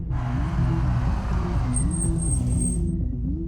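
A car engine rumbles steadily at close range, its low drone shifting in pitch as the vehicle slows and pulls over to the roadside, with a thin high whine appearing briefly near the end.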